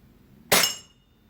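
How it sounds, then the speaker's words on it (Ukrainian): An air rifle pellet strikes and ricochets off a thick glass beer bottle, a single sharp bright clink with a short ringing glassy tail, close and loud against near silence. "Відбувся рикошет."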